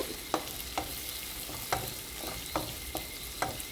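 Tomatoes sautéing in a pan for an aubergine sauce: a steady soft sizzle broken by regular light scrapes of a spatula every half second or so, fairly faint, with no talk.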